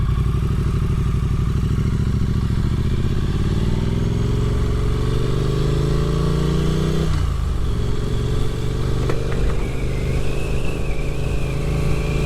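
Triumph Street Twin motorcycle on an evening road ride, its engine droning steadily and loudly throughout with rising pitch as it accelerates, a sharp drop as the rider shifts gear, then a steady cruise with wind rush.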